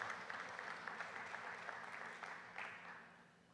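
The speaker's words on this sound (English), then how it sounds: "Yes, let's give them a big round of applause" Applause from an audience at a high school football jamboree media day, a steady broad wash of many hands clapping at moderate loudness, continuing without pause and tapering slightly toward the end.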